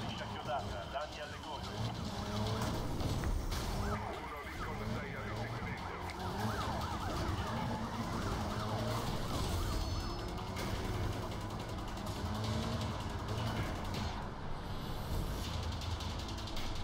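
Police car sirens wail through the Need for Speed Rivals racing game, layered over steady engine and road noise for the whole stretch, with someone talking over the action.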